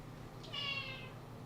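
A cat gives a single short meow indoors, fairly faint and close, rising briefly over a quiet room with low background hum and no talking.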